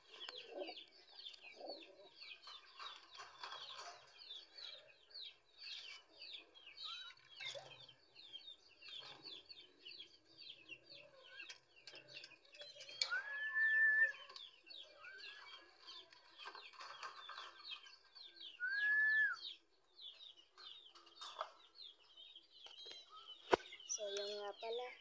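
Breeder chickens being given water cluck softly in a rustling chorus, with a few louder calls and bursts of wing flapping rising above the steady background.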